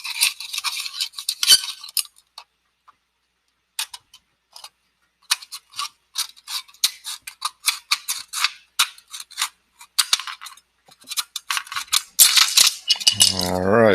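Scissors snip through thin aluminum sheet in a series of sharp, crisp clicks and crunches, close and irregular, with short quiet gaps and a brief sweeping noise at the end.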